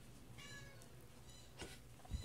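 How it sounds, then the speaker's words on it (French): A female cat meows faintly from across a quiet bedroom, a soft, thin cry or two over low room noise. "Elle miaule parce qu'elle veut sortir de ma chambre."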